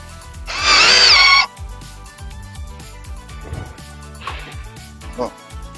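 A power drill in drill mode drives a black screw into a pocket hole joint in wood, giving one loud whirring burst near the start, followed by a few shorter faint bursts while someone talks throughout.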